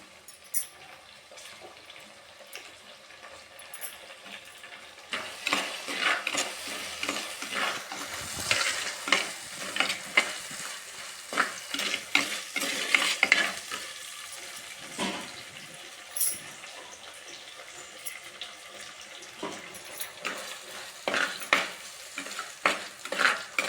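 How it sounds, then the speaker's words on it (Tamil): Tomatoes and onions sautéing in a pan for mutton biryani, a soft sizzle under frequent scraping stirs from a spoon that grow busier over time, close and moderately loud, no speech. "ரெண்டும் நல்லா வதங்கணும் ஃப்ரெண்ட்ஸ் நல்லா வதங்கட்டும்"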